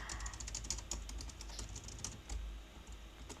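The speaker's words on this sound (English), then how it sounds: "Ooh, my typing is so bad today." A computer keyboard clatters under steady typing, with a dense run of light, close keystrokes and brief pauses, and no voices.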